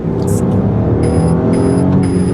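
A 280-horsepower six-cylinder mid-sized sedan pulls hard at full throttle, its engine droning loud and close inside the cabin with a steady rising tone.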